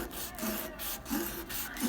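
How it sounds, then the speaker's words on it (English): Rhythmic back-and-forth scraping of sandpaper on wood, close and steady, about five strokes with brief pauses between. "It's gonna really need a lot of sanding with several grits of sandpaper."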